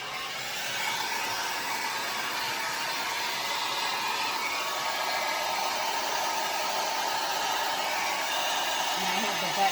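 Hair dryer blowing continuously on wet acrylic paint during a folk art pour painting session, a steady loud whooshing roar held close without pause for the whole stretch.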